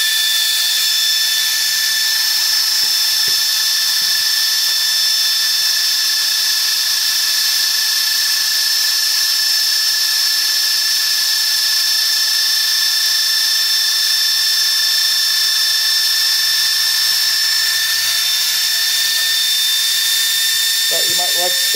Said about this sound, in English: So it is running. Got a high pitch.